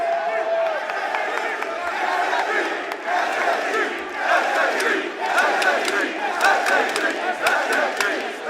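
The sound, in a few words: crowd cheering at Rainbow Six esports event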